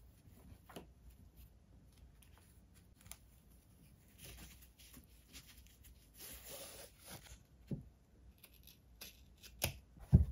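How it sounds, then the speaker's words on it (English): Scissors cut fabric trim for a journal cover, giving quiet, sparse snips and rustles of cloth that come in small clusters and grow slightly louder toward the end, with no voices. "I just cut the fabric at the top there too when I was cutting off the trim"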